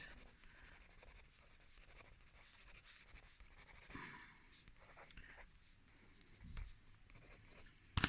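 Pencil drawing and shading on paper, soft continuous scratchy strokes and rubbing close up, fairly faint, with small irregular swells and a couple of sharper taps at the very end.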